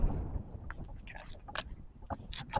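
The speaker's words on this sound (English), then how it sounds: "Wind is calming down a little right now." Hurricane Idalia's winds at landfall buffet the microphone with a steady low roar, and brief gusty bursts break through the rumble without any speech.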